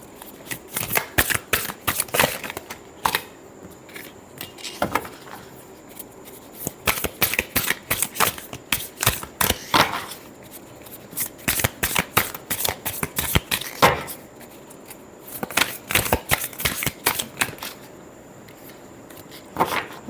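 Tarot cards being shuffled by hand in repeated quick riffling bursts with brief pauses between, crisp and close, with no voices.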